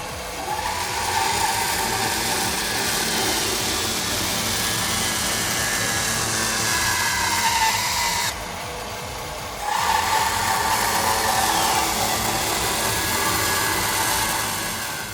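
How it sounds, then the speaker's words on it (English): Hammer mill shredder crushing wooden pallets, a continuous loud grinding roar that drops out briefly partway through and then resumes. "Wooden pallets crushed in under 10 seconds, knocked out cold by hammer mill jaws"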